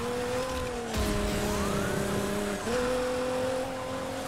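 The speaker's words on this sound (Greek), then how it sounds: "Εγώ έχω έξι περιπολικά με κυνηγάνε τώρα." Police cars pursue the player's car in the racing video game Need for Speed Heat: a steady engine drone with rising and falling siren tones, a brief surge and dip midway, loud and continuous throughout.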